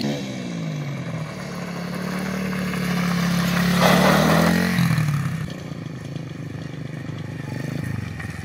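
A pit bike engine runs steadily close by with a low droning note that swells and rises in pitch toward the middle, then settles back to an even idle-like hum.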